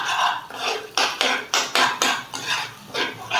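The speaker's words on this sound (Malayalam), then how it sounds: "ഇനി എല്ലാം കൂടി നന്നായിട്ടൊന്ന് മിക്സ് ചെയ്യാം." A spoon scrapes around a pan in about ten quick rhythmic strokes while drumstick chutney is mixed with salt and turmeric, close and clear with no talk.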